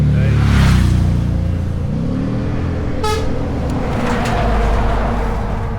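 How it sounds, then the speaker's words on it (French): A car horn honks at a cyclist on a road, a short toot over loud passing traffic and steady engine rumble, heard up close. "Au lieu de se tasser, il klaxonne."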